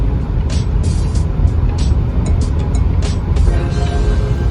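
A Volvo XC60 drives on the road, with steady road and tire rumble and engine noise heard from inside the cabin. Faint clicks and ticks sit above the constant roar.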